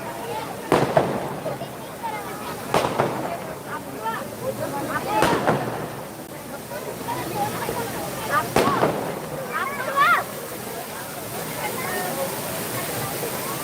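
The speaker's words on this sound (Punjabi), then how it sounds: "ਆਤਿਸ਼ਬਾਜ਼ੀ ਵਿੱਚ 2 ਮਿੰਟ ਹਟ ਗਈ ਸੀ ਦੁਆਰਾ ਹੁਣ ਸ਼ੁਰੂ ਹੋ ਚੁੱਕੀ ਆ" Fireworks resume at Sachkhand Sri Hazur Sahib during Vaisakhi celebrations, with repeated sharp bangs and crackling bursts spaced a few seconds apart over a steady crowd murmur, moderately distant.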